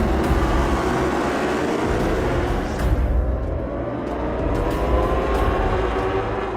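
World Superbike motorcycles roar away together at the start of race one at the 2021 Indonesian round, a dense, sustained wall of engine noise with rising pitches as the pack accelerates, loud and continuous throughout.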